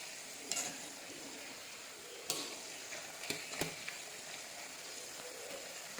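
Banana chips frying in hot oil, giving a faint, even sizzle with a few sharp taps and scrapes as a spoon stirs them.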